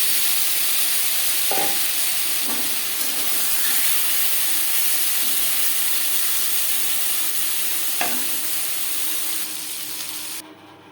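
Oil heats and fries in a kadai after prawns have been fried in it, giving a steady close hiss with a few faint clinks and scrapes, then fading near the end.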